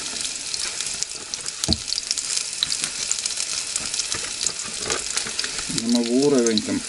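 Steady sizzling of onion frying in hot oil fills the clip, with a few clinks and a brief tonal warble near the end.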